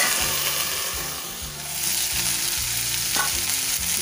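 Mixed vegetables sizzle steadily in a covered kadhai, a close, continuous frying hiss with a soft scrape partway through and no talking.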